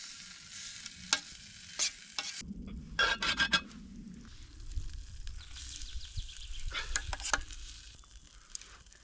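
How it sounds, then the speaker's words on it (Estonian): Chicken curry stirred in a pot over a campfire in the woods: scraping stir strokes and light sizzling, close and fairly quiet, with a few sharper clinks and brief outdoor background sounds. "Valame selle potti ära ja siis ajame lööke kohal soojaks."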